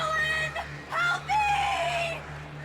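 Crows caw repeatedly in the video game Alan Wake, several overlapping bird calls over a steady droning game background with no voices.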